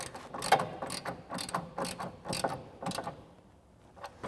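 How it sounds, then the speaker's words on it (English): A ratchet fitted with a 15 mm socket tightens a bracket bolt for side step bars on a 2021-2023 Ford Bronco, giving close, crisp bursts of rapid clicking in short repeated strokes with brief pauses between them. "I'm going to take my 15 millimeter on my ratchet,"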